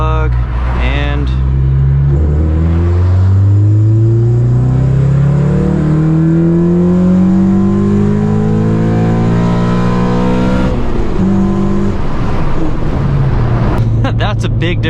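Honda Civic Si with a K-series engine revving up through the gears toward redline during a tune data log, a loud rising engine note climbing steadily for several seconds before dropping off, with voices talking over it.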